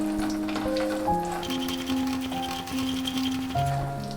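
Dried lentil dumplings (bori) fry in a generous amount of hot oil, producing a soft continuous sizzle that sits beneath louder background music with sustained tones.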